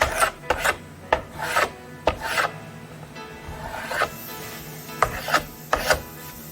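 Stanley Handyman scraper with a bent blade scraping dried wood glue off a coffee table board, a series of close, rasping strokes in uneven bursts with short pauses between them.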